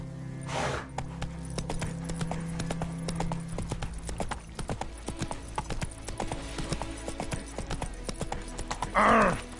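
Hooves of a horse galloping in the video game The Witcher 3 clip-clop in a steady rapid rhythm, joined by a short whinny near the start and another snort or neigh near the end, all fairly close.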